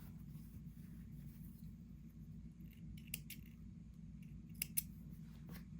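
Scissors cutting paper for a pinwheel make a few quiet, brief snips in the second half, over a steady low machine hum.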